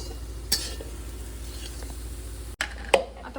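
Jaggery is stirred into a coconut burfi mixture in a pan over low sizzling heat, with a few sharp scrapes and clinks of a spoon against the pan standing out near and clear.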